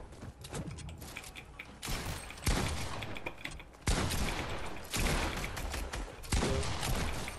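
Heavy gunfire in a first-person shooter on PC, with long dense volleys of rapid shots broken by short gaps, loud and harsh with mechanical clatter mixed in.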